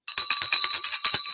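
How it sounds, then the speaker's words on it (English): Stock market closing bell ringing to end the trading day, a bright sustained metallic ring with rapid repeated strikes, loud and continuous throughout, no talk. "Oh, bell time."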